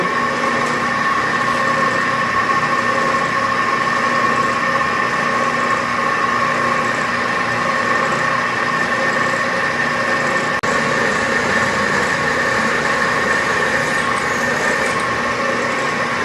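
Steady machine hum with a constant pitched whine as a center drill spots a hole, holding evenly throughout with one faint click partway.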